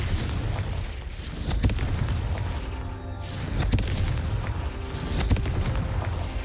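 Confringo fire-blast spell from Hogwarts Legacy, heavy booming explosions with rumbling low end, several bursts and crackling blasts over a sustained roar, loud throughout.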